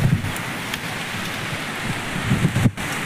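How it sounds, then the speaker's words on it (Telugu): Rain arriving in a village, a steady close hiss of falling drops with a faint low rumble underneath. "వచ్చేసింది ఫ్రెండ్స్ మన దగ్గర దాకా వర్షం అయితే."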